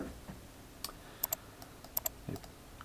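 Sparse clicks from a computer keyboard and mouse, a handful of separate light taps scattered over a few seconds, close and quiet in a hushed room.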